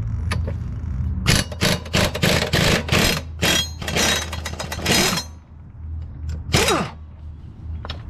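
Air impact wrench removing the blades from a Dixie Chopper mower deck, a series of loud, short rattling bursts in quick succession over a steady low compressor hum, with a brief final burst after a pause.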